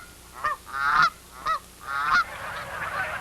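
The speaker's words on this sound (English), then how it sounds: "These are taverner's geese." Taverner's geese honk in flight, several loud, nasal calls in an uneven series, close and clear above a quiet background.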